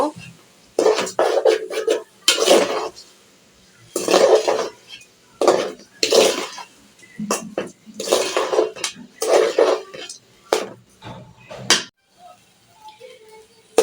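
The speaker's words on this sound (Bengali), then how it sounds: "এখন আমি চালটাকে ভালো করে ভেজে নেব।" Metal spoon scraping and clattering against a pan in repeated bursts, frying rice with green chillies and salt, with short pauses in between.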